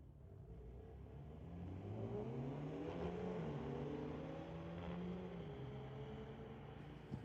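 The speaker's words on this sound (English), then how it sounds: "Monveer Bhatia with the 2015 BMW going up against, well, same make from 5 years later" Two BMW cars, a 2015 and a 2020 model, rev and accelerate hard down a drag strip at a street-legal race night, engine note climbing and shifting steadily, loud and continuous with no talk.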